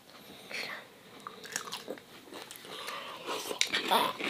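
Biting and chewing crispy roast chicken from a late-night takeaway: close, soft crunchy bites and chewing sounds, with quiet murmured voices in between.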